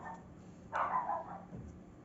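A dog barks once, then gives a softer low woof or whine, fairly faint and in the background in a room where a Canon G3100 printer is being cleaned.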